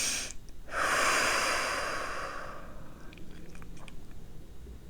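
Slow, deep inhalations and exhalations during a guided meditation, one long breath swelling then fading, followed by softer breathy sounds with faint clicks, close and alone.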